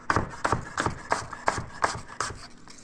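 A knife slices through a firm apple in a quick series of crisp cuts, about eight sharp strokes in an uneven rhythm, close and clear.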